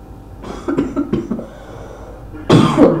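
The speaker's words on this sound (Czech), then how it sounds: "Omlouvám se, mám trochu kašel," A man coughs several times in a short cluster, then lets out a louder, harsher cough after a brief pause, close to the microphone and with no speech.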